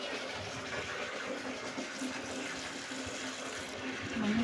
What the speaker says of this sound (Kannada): ಗಿಡಕ್ಕೆ ನೀರು ಹಾಕ್ತೇನೆ